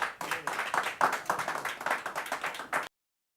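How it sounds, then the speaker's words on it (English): A live audience claps for a jazz and blues band, a brisk round of close, distinct handclaps that carries steadily for about three seconds before stopping abruptly into silence. "Let's give them another big round of applause."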